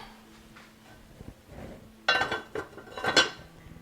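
A metal lid clanks onto a pot, two sharp clattering hits in quick succession after a quiet stretch of faint kitchen noise.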